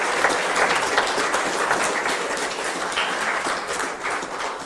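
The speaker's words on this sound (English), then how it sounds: "Give them another clap." Audience applause at a memorial gathering for Sally Beutel, a sustained crowd clapping that stays fairly even and moderately loud throughout, with no voices heard over it.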